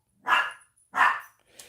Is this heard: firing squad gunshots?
no